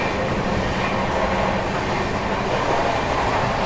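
The 22466 Vikramshila Express, an Indian express train bound from Bihar toward Anand Vihar, racing at around 135 km/h on a long nonstop run: a loud, steady, broadband rumble and rattle of wheels and carriages throughout, with no talking.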